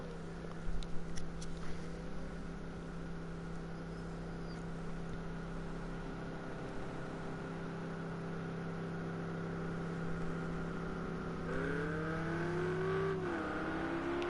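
GT3 race cars pulling out of the pit box at Bathurst in a sim racing game: a steady engine drone with rising revs near the end.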